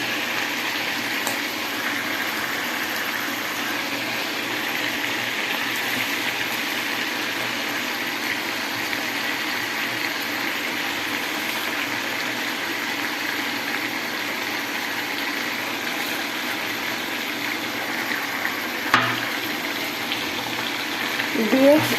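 Onions and chicken sizzling in a pan, a steady broadband frying hiss that holds evenly throughout with a few faint clinks near the end.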